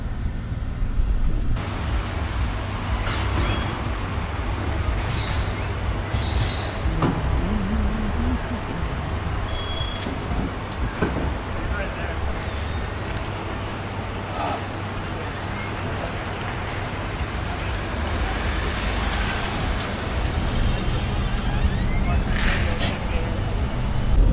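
A 2008 Honda Element is driven on the road, its engine and tyre noise forming a steady broadband rumble from inside the cabin, with a few brief clunks and squeaks. A person talks over the drive.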